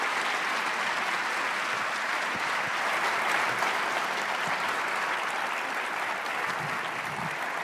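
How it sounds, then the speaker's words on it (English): Warm, steady applause from a seated audience greets the guests of a press and world-affairs panel discussion, an even, continuous patter of many hands clapping throughout, with no one speaking. "Please give them a warm round of applause."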